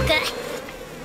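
Cartoon bees buzz in a short, steady insect drone with a brief higher whine at the start, fairly close and moderately loud, heard alone with no talking.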